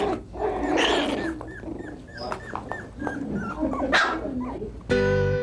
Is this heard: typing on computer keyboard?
no